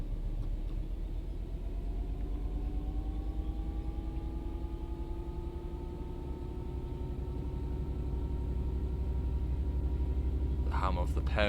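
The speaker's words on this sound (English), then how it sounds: "The hum of the power of the engine, love it." A Class 66 diesel freight locomotive hauls along the London Overground Gospel Oak to Barking line in Train Sim World 5, giving a steady close diesel drone whose tonal harmonics slowly rise in pitch, continuous and uninterrupted.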